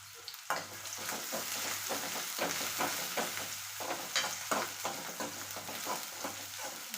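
Onions frying in a pan with a loud, continuous sizzle broken by repeated scraping stirs in an uneven rhythm, close and alone without speech.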